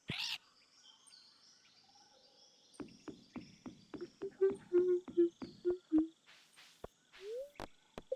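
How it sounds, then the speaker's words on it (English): Birds chirp in the Stardew Valley farming game, with a high call at the start, then a run of rhythmic clucking and warbling notes that repeat steadily and sound fairly loud, with no talk. "The bird sound is extra, like, loud."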